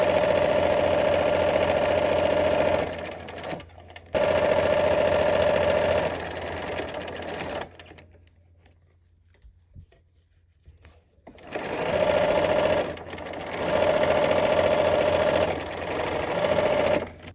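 A sewing machine runs loud and close as quilt rows are joined. Long steady whirring runs are broken by a brief stop with quiet handling sounds, and then the stitching starts again.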